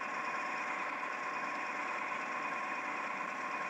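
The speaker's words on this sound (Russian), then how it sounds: "У нас настоящий паровоз на пару." A steam locomotive running in the Train Driver 2015 simulator game, a steady droning mechanical hum with a constant whine on top, even and unbroken throughout with no voices.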